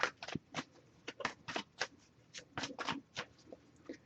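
A tarot card deck being shuffled close up, a quiet run of crisp papery riffles and taps in quick irregular bursts, with no talking.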